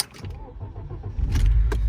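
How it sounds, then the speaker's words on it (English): A 1997 Audi S6 cranks on a cold start, with a short clatter before the engine catches and swells into a loud, rough idle close by. "I'm going to do just kind of a cold start on this thing"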